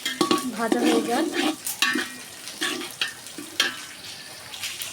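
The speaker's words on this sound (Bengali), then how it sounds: "পেঁয়াজটা ভাজা হয়ে যাক।" Onions sizzle in a hot pan while a spoon stirs them in uneven scraping bursts, close and fairly loud at first, then sparser, with no talking over it.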